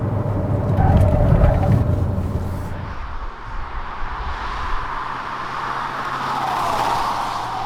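A Ssangyong Korando SUV drives along, its engine and road noise loud at first, then easing into a steadier, quieter hum of tyres and wind before rising slightly again.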